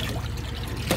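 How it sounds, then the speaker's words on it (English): Tap water running steadily while hands are washed after cutting up deer for jerky, a close continuous splashing stream with a brief louder splash at the end, no talk. "So, wash my hands off."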